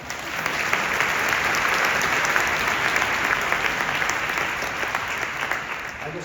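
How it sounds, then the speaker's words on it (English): Applause from the audience at a wind ensemble spring concert, a dense, sustained clapping that fills the hall for several seconds before tapering slightly. "We can applaud."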